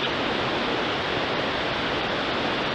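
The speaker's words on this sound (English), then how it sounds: "The trail funnels down right next to this raging creek." Water rushes loudly and continuously in a raging creek beside a forest trail near Mt St Helens, a steady broadband roar close by with no voices.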